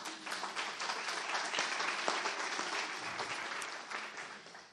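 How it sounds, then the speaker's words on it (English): A crowd claps steadily and warmly for several seconds, a dense, even wash of applause without a break. "give yourselves a round of applause for being here this evening"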